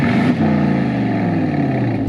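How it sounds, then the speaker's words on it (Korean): Aston Martin DBX in GT mode idling just after start-up, a steady, loud, deep exhaust burble with a low even drone and no one speaking. "GT 모드에서의 배기음입니다."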